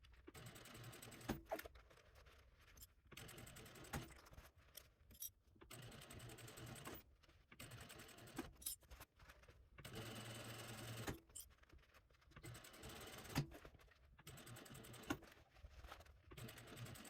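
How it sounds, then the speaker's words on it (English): A sewing machine runs in short bursts while top stitching a fabric crossbody bag, its rapid mechanical whirring starting and stopping repeatedly with brief pauses between runs, faint and close. "we are gonna go back to the machine and we will top stitch"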